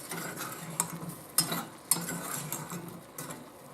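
Zucchini and tomatoes are stirred in a pan over heat, with a low sizzle beneath a few sharp clicks of a utensil against the pan.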